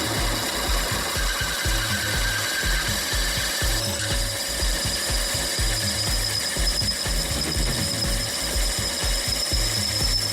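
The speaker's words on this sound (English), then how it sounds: "I take a drill bit the size of a screwed bolt and expand the hole" A power drill grinding steadily as it enlarges a hole to bolt size, a continuous rough, rasping whir up close with no speech.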